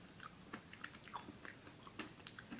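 Someone close to the mic chews Sno-Caps chocolate nonpareils candy, giving soft, quiet, gritty crunches in an irregular rhythm.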